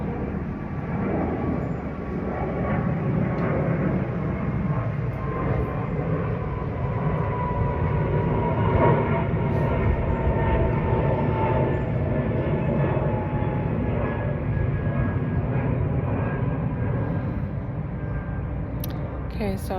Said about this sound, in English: I'm going to wait for the plane to go by